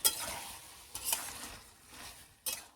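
Chopped poultry and cabbage fry in a pan while a spoon stirs them, producing a soft, even sizzle broken by three brisk scraping strokes against the pan.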